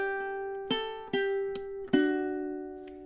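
Measure 19 of a song on ukulele: four crisp plucked notes and chords spaced in a steady count, each left to ring and decay, with a faint final pluck near the end, close and unaccompanied.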